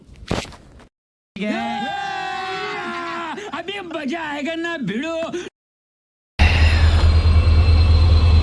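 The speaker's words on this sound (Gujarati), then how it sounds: "રેલગાડી ધીમી ધીમી હાલે" A slow-moving passenger train bound for Dwarka, heard as a steady groaning rail rumble with shifting squealing tones that runs for several seconds between brief breaks, followed by a burst of loud broadband noise.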